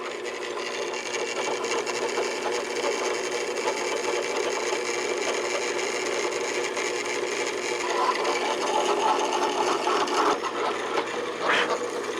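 A hole saw cutting the throat of a shrinker stretcher in a workshop, a steady, grinding, rasping drone at close range that holds for many seconds before a few sharper scrapes near the end.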